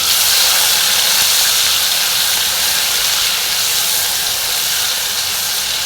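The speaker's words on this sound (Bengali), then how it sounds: "এখন দিয়ে দিচ্ছি এটাকে আমরা একটু ভেজে দেবো" Loud, continuous hissing sizzle of chicken pieces frying in a hot pan, steady throughout with no talking.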